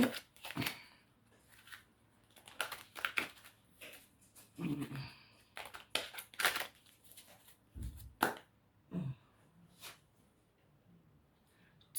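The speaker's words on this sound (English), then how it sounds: "let me shuffle again" Tarot cards shuffled in a run of quick riffling and slapping bursts, close and fairly soft, with short pauses between handfuls and no talking.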